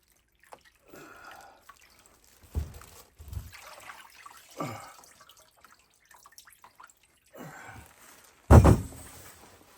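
A rusty iron weight is lifted out of a container of soaking liquid, with scattered drips and trickles of water, a couple of soft splashy knocks, then a louder close splash and slosh near the end.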